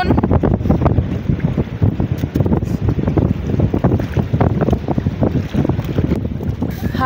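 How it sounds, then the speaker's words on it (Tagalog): Strong wind and waves surround a boat at sea in a loud, continuous roar of microphone buffeting and churning water with no pauses. "Malakas na naman po yung hangin tsaka yung alon."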